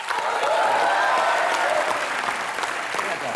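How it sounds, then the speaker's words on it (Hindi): Studio audience of a Hindi comedy talk show giving loud, sustained applause for a guest's father. The clapping is dense and continuous throughout, with a faint voice or cheer running through it. "इनके लिए भी जोरदार तालियां"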